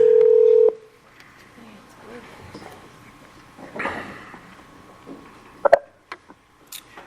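A telephone being dialed to call in to a board meeting: a short steady tone opens, followed by faint room noise, murmuring voices and a couple of sharp dialing beeps.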